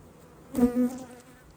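A brief swell of honey bees buzzing up close in a hive, a low droning hum that rises and fades over a faint background.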